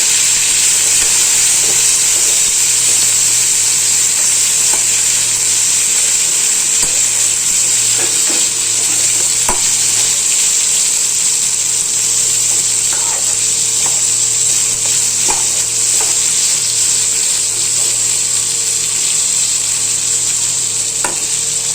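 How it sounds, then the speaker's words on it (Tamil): Ridge gourd and its peel frying in a pan, a loud continuous sizzle up close with occasional soft scrapes and taps of the stirring spoon. "ரெண்டும் சேர்த்து நல்லா ஈக்குவலாக வறுபடுற அளவுக்கு அதை வறுத்துக்கலாம்"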